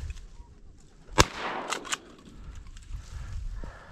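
A 28 gauge shotgun fires once at a mallard over icy water, a single sharp crack followed by fainter echoing reports, with quiet outdoor ambience around it.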